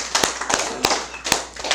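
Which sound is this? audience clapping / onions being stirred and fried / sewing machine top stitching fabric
audience clapping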